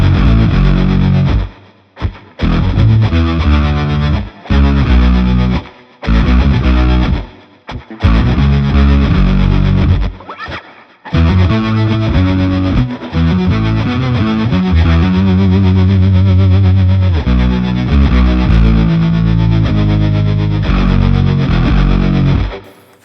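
Electric guitar run through a Line 6 Helix and shaped into a deep, bass-like distorted tone, playing loud, close riffs in choppy bursts with brief gaps early on, then a sustained run of notes.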